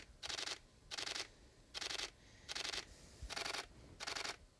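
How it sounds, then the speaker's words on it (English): Mechanical shutter of a Canon R6 camera firing six times in an even burst, each a short crisp clatter close to the microphone against quiet room noise. "Here is what the mechanical shutter sounds like."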